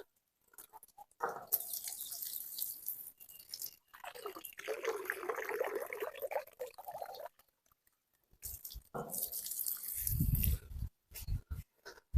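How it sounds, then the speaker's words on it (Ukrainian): After the pump motor is switched off, water keeps trickling and splashing from the pump pipe at a well, close and fairly quiet, coming in uneven bursts separated by short silences. "Дивіться, мотор виключив, насос, а вода тече."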